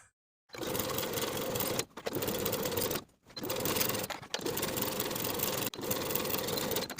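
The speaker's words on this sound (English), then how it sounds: "Sew the crotch curve with a 3/8 inch seam allowance" A sewing machine stitches the crotch curve seam of a knit jumpsuit in steady continuous bursts, with brief pauses between the runs. The whirring hum is close and sounds on its own, with no voices over it.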